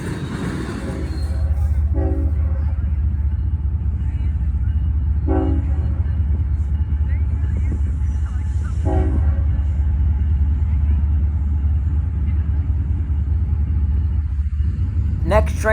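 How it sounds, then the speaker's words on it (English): A CSX freight train on the Willard subdivision in Fostoria, led by a single CSX locomotive with a mid-train distributed power unit, rumbles steadily past at close range while its horn sounds three distinct blasts. "B522 creeping onto the CSX Willard subdivision on its journey to Middletown, Ohio."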